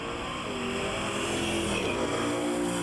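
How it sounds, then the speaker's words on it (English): Drag racing cars, a 1970 Cuda and a 1972 Nova, roar down the strip at an NMRA and NMCA event in Reynolds, Georgia, with a dense, loud, sustained engine howl that holds steady throughout. "A 70 Cuda in the near lane, Larry Fleming. Jeremy Mattingly out of Buffalo, Kentucky in the 72 Nova"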